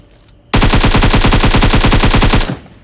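Rapid automatic fire from an AK rifle in the mobile battle-royale game BGMI, a sustained burst of about two seconds with dense, evenly spaced shots, loud and close, with no voices over it.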